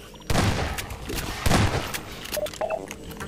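Gunfire in the video game Half-Life 2 Episode 1 comes as two loud bursts of shots with rattling follow-up and smaller game sounds, heard close with no talk over it.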